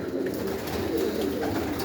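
Pigeons coo softly and repeatedly, a low murmuring chorus close by against a steady background hum.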